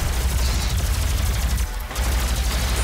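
Gunfire in the video game Doom, a dense, continuous barrage of loud overlapping shots and blasts that fills the whole moment without letting up.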